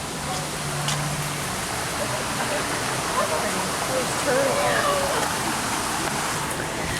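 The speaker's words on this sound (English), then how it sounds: "Oh, look at this, a waterfall." A waterfall at Animal Kingdom rushes in a constant broadband roar, loud and close, with faint voices mixed in beneath the water noise.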